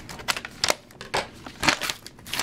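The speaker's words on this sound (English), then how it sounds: "Cut through the tape with my scissors." Scissors cutting through packing tape on a mailed package, a series of short, faint snips and crinkly tearing bursts in an irregular rhythm, close up and quiet.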